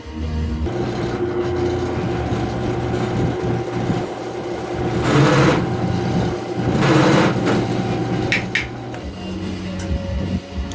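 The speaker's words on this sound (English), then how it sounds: "So toss that, use the center drill." A drill motor hums steadily, with two louder rasping bursts of a center drill cutting into black titanium partway through.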